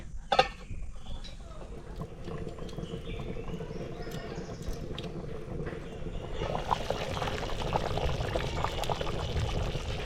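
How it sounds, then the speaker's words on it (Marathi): Spicy potato curry boils hard in a pot over a high gas flame, a soft bubbling that rises into a louder, steady rushing hiss in the second half. "गॅस फास्ट करून आपल्याला रश्याला मस्त असा कड काढून घ्यायचा आहे"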